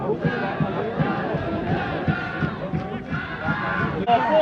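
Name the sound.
football crowd celebrating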